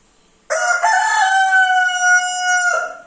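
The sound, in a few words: parrot imitating a rooster crowing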